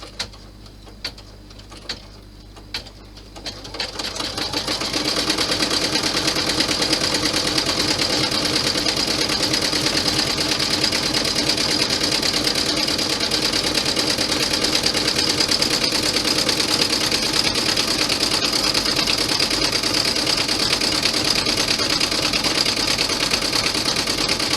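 A sewing machine stitches down a mini compact: a few light clicks at first, then a loud, steady, continuous running whir that holds without pause to the end.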